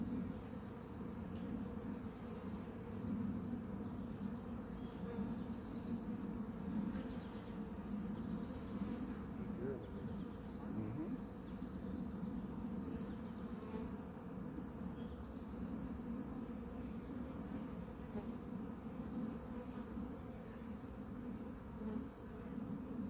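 A ground swarm of honeybees buzzes steadily outdoors, a dense, fairly quiet drone of many wings that holds unbroken throughout with no talk.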